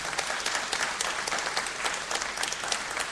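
Audience at a radio tribute event applauding in a steady, dense round of many hands, even in loudness from start to finish with no voices on top.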